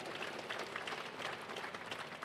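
An audience at a South African parliamentary debate applauds, a dense, even wash of many hands clapping at a distance, steady for the whole stretch with no voices rising above it.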